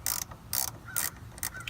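A ratcheting wrench loosens the 10 mm bolt on the negative battery terminal of a Nissan Leaf, with four short bursts of metallic clicking separated by brief pauses, close and fairly loud, and no talk.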